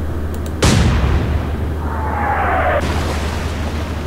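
Naval guns in the Atlantic Fleet video game fire light explosive shells, one sudden loud boom followed by a long rumbling tail and a faint whistling shell in flight over a low drone.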